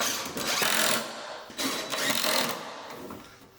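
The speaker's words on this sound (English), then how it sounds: "as I held the board in position against the stud, I secured it with several screws" A power driver runs screws through drywall board into a wooden stud in two whirring bursts, each winding down before the next starts, at close range in a quiet room.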